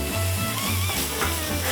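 Turkey burrito filling sizzles steadily in a hot pan, a dense continuous crackle with a low hum running underneath, close and moderately loud with no talking.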